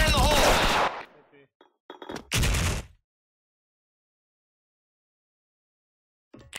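Video game artillery firing armor-piercing shells gives two loud, heavy booms about two seconds apart, each trailing off into silence before a faint final thump.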